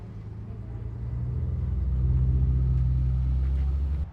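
A Mazda 1300 converted to a rotary engine idles with a steady low rumble that swells slightly and holds, loud and close with no talking.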